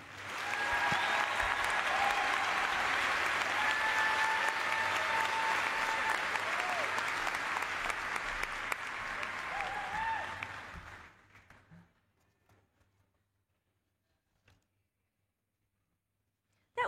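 A graduation audience at a 2025 commencement ceremony claps in sustained, dense applause that stays loud for about ten seconds, then fades away, leaving near silence with a few scattered claps.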